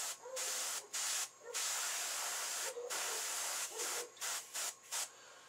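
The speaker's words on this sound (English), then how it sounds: "what you want to do is you want to go ahead and hit that with your airbrush" Airbrush spraying paint onto an elk taxidermy mount, a steady close hiss in repeated bursts of varying length with short pauses between, ending in several quick spurts.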